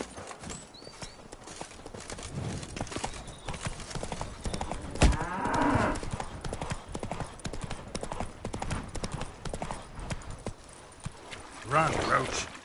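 Roach the horse gallops in The Witcher 3: Blood and Wine, a steady clip-clop of hooves running throughout, with voices talking over the hoofbeats.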